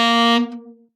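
A short jazz phrase ends on a single sustained horn-like note around C that rings, then fades out over about half a second, alone with no talk.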